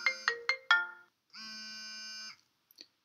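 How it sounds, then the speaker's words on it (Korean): A phone rings with an incoming automated verification call from Amazon Web Services: a short run of bright melodic ringtone notes followed by a sustained tone, clear and close, with no talk. "네, 전화가 왔어요."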